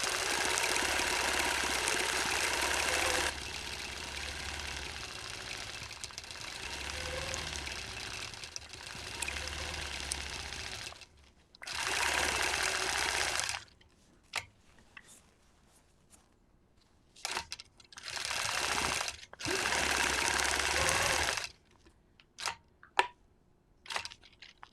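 Domestic sewing machine running free motion quilting in parallel lines, a close mechanical whirring hum in long sustained bursts that later breaks into short starts and stops with quiet gaps and small clicks; no talking.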